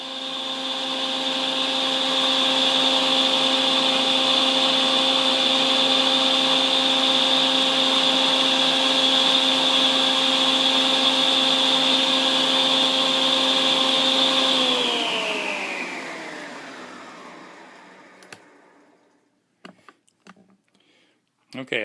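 A Shopsmith table saw hums loudly at its general sawing forward 3450 setting, a steady whine with strong harmonics that winds down smoothly after about fifteen seconds, leaving a few scattered clicks and knocks.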